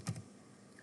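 A brief burst of computer keyboard typing, a couple of quick keystrokes close by, then fading into quiet room tone.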